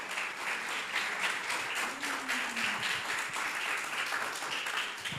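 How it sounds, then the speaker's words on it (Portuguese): A church congregation claps together in steady, fairly faint applause that carries on evenly throughout, with a brief voice murmuring underneath. "Vamos aplaudir a Jesus por isso, amém?"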